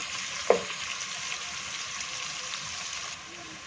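Soft, steady sizzle of onions frying in a pan for beef yakhni pulao, a faint hiss with a brief clink near the start.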